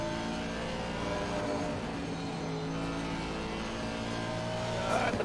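A GT3 race car engine in Assetto Corsa Competizione drones steadily at high revs with a constant tonal whine, a racing game run at night for Halloween, with a faint rise near the end.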